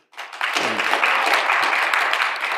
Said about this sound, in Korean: 우리 나오실 때 할렐루야 우리도 힘차게 좀 박수 좀 쳐주세요